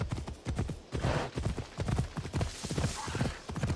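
Horse hooves galloping in Assassin's Creed Odyssey, a quick, steady clip-clop rhythm close and loud throughout, with the mount's footfalls pounding in regular beats.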